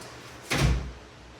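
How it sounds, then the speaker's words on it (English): An indoor door swings shut with a single soft, muffled thud close by in a quiet room, the sound fading quickly afterward. "let me close the door so"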